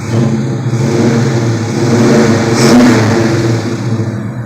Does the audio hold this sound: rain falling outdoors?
no